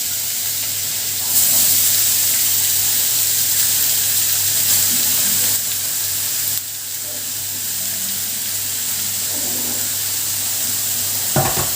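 Carrots frying in ghee with bay leaves and crushed cardamom over a high flame, giving a loud, continuous hiss and sizzle with occasional stirring scrapes.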